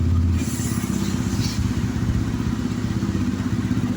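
A TVS Ronin motorcycle with a BS6 engine idles after repair, a steady close rumble with a fast mechanical clatter running throughout, loud and even, with no voices over it.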